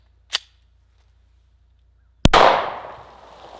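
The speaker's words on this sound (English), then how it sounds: "let's see what a 40 cal will do. So first off, we'll just shoot one, just regular, no suppression whatsoever." Unsuppressed .40 caliber handgun fires a single sharp, loud report whose echo rings out and decays over about a second, preceded by a brief click.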